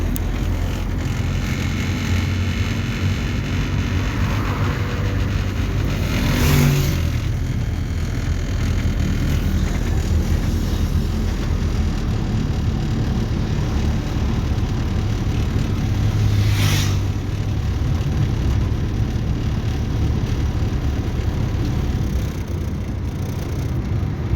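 A vehicle engine idles with a steady rumble and is given throttle twice, each time rising in a brief rev before settling back, loud and close, with no talk over it.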